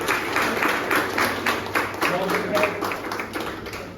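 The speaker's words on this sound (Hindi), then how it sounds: "एक जोरदार ताली बजना चाहिए।" Audience applause at a journalists' association office event, a steady wash of clapping running through the whole stretch at moderate level, with a voice faintly audible underneath.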